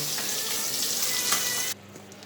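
Rohu fish frying in hot oil, a loud steady hiss and crackle that cuts off abruptly near the end, leaving quiet room noise.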